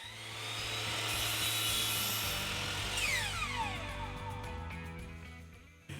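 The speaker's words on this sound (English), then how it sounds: "set up a stop block on the miter saw and cut the jambs to their exact length" A miter saw set with a stop block cuts wooden window jambs to length, its motor whining up loudly, biting through the board, then spinning down with a falling pitch before a short clack at the end.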